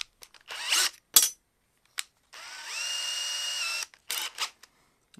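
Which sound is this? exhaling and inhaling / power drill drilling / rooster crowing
power drill drilling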